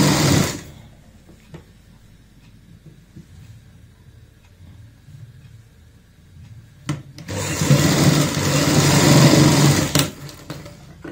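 Electric sewing machine stitching a half-inch seam on a baby frock, a short burst at the start, then a quiet pause with faint handling, then a loud sustained whirring run of stitching near the end.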